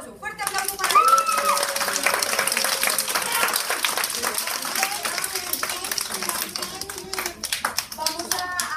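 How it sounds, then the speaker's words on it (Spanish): An audience in Bogotá claps loudly for young guitar students at a holiday course recital, a strong, sustained round of applause from many hands, with children's voices and chatter mixed in. "¡Fuerte aplauso para ellos!"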